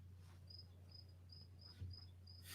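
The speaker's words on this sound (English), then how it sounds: "Crickets." Crickets chirp as a sound effect in short, evenly spaced high trills over a low steady hum, faint and alone against quiet background noise.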